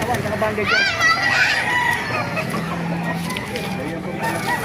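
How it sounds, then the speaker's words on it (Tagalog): Pumpkin Sweater gamefowl, including an eight-month-old bird, kept at a farm in Baliwag: one rooster lets out a rising, drawn-out crow near the start amid low clucking, while people talk nearby throughout. "Papakita ko sa inyo yung mga manok dito sa Baliwag."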